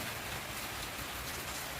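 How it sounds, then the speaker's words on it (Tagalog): Heavy rain pours steadily in a dense, hissing wash, a constant downpour with no pauses. "Kaso, sobrang ulan."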